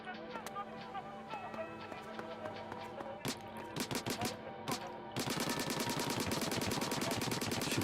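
Weapon shooting in the Splatoon Octo Expansion video game: scattered sharp shots at first, then a dense, rapid, evenly paced stream of firing that runs steadily to the end, loud and close.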